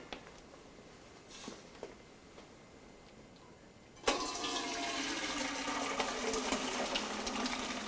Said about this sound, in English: So I'm going to strain it into the colander.